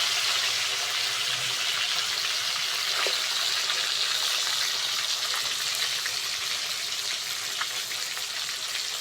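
Pieces of rohu fish fry in a pan, turned to cook the second side, giving a bright, continuous sizzle with faint crackles and no voices.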